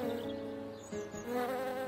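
Cartoon fly buzzing steadily at close range, a continuous nasal drone that rises and wavers slightly in pitch, with no talk over it.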